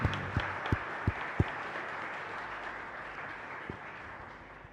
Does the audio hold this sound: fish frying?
no